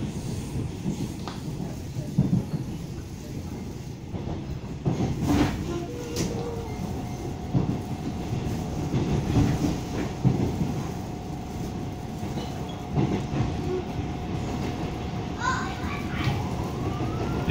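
An EMU500 electric multiple unit local train runs on the Pingtung line between Kaohsiung and Fengshan, with a steady rumbling rolling drone, scattered clanks and a faint tonal whine, heard from on board for the whole stretch.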